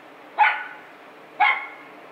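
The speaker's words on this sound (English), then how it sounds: "This dog is barking like a mother." A dog barks twice, about a second apart, each a sharp, fairly close bark that trails off quickly over a quiet background in a car workshop setting.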